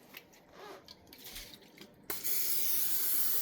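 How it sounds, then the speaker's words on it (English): Olive oil sprays onto a cooking pan in a sudden loud hiss that follows quiet kitchen rustling and carries on steadily to the end. "we're gonna spray our pan"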